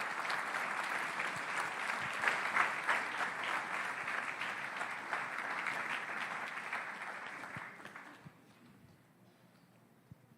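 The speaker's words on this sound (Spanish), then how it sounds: "Denle un aplauso a nuestro Rey porque se lo merece por eso" Church congregation at a Sunday service breaks into sustained applause, a dense even wash of many hands that holds steady for about eight seconds before fading out into quiet room tone.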